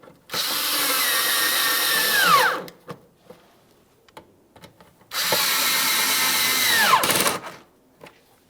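Cordless power drill snugging up fasteners while reinstalling a windshield washer reservoir on a 2015-2020 Ford F-150, two loud sustained whirring bursts of about two seconds each, each winding down as the fastener seats, separated by a quiet gap of light clicks.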